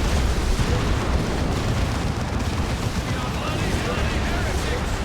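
Grenade barrage explosions in the Warhammer 40,000 Dawn of War 2 game during a 3v3 battle: a dense, continuous roar of blasts and rumbling noise, loud and unbroken throughout.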